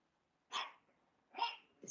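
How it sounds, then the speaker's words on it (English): A dog lets out two short, breathy huffs close by, separated by a pause, with the start of a third at the end. "This damn dog."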